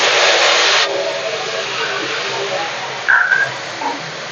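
Garlic sizzling in hot white oil mixed with ghee for fried rice, a steady broad hiss that starts loud and settles into a softer continuous crackle, with a brief sharper sputter near the end.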